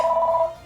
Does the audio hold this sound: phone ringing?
yes